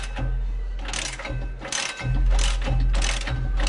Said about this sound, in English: See my engine turning tool here. Basically goes in a hole here and engages with the splines for the ring gear and the flywheel.